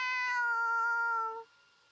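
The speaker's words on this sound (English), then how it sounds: "Is that a cat I hear meowing just outside?" A cat in the video game You and Her lets out a single clear, drawn-out meow lasting over a second, loud and close, then fading into near silence.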